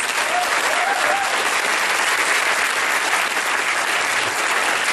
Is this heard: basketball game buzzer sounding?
no